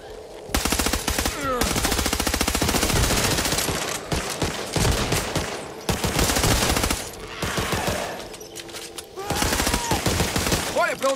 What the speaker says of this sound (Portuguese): Você tá atirando, cara!